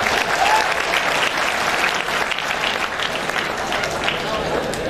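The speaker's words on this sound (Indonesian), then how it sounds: "Tepuk tangan untuk BNISA." A graduation ceremony crowd breaks into loud, dense applause that holds steady throughout, with a little crowd noise mixed in.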